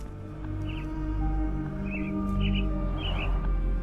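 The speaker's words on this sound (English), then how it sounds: "Minor birds, if I'm not mistaken. Beautiful creatures. Sad that they're caged here." Caged myna birds give several short, bright chirps and calls over a steady low ambient hum in the Sherlock Holmes The Awakened game scene, with the calls spaced irregularly at moderate volume.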